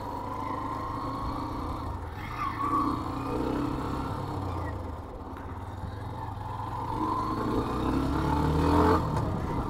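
A Hero Xtreme 125R 125cc motorcycle engine hums through a U-turn on the road, rising and falling as the throttle eases off and picks up again, a steady close drone with wind noise and a swelling rev near the end.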